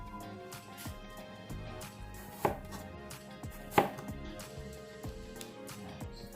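A sharp Zwilling kitchen knife slicing an apple into thin pieces, a series of quiet, crisp cuts landing on a board, two of them noticeably louder.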